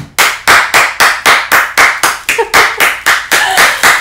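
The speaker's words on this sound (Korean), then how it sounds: "박수 주세요." About fourteen loud, close hand claps land in a steady, even rhythm, roughly three per second, with no talking over them.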